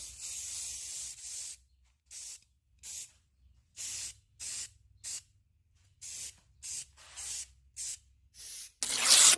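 Short bursts of aerosol spray paint hiss onto a thrift store decor piece, a longer opening spray followed by about a dozen brief evenly spaced puffs, close and alone.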